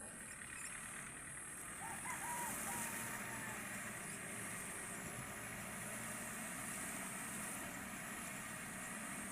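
A farm vehicle's engine works a rice paddy during harvesting and tilling, a steady continuous mechanical drone that stays at an even, moderate level throughout with no pauses.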